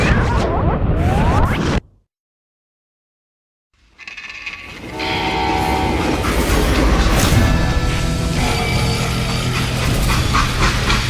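A steam-era freight train in the western video game Call of Juarez: Gunslinger rumbles loudly on its rails, a brief dead silence breaking into clattering wheels, metallic screeches and a sustained roar that stays strong to the end.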